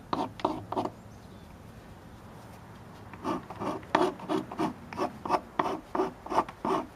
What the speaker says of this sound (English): I'm rasping the edges.